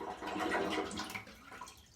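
Water siphons out of a toilet bowl through a hose, producing a brief gurgling, rushing flow that swells and then tapers off, close and moderately loud.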